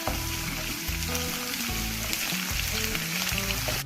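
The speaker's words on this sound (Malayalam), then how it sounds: "എല്ലാം കൂടെ നമുക്ക് നന്നായിട്ടൊന്ന് മൂപ്പിച്ചെടുക്കാം" Chopped garlic, green chilli and curry leaves sizzle and crackle steadily in hot oil for a lemon pickle, with a close, continuous frying hiss and occasional stirring clatter.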